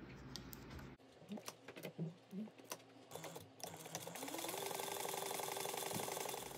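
A sewing machine runs a steady continuous stitch along one side of a 3/8 inch seam allowance, preceded by a few short bursts and handling clicks at close range.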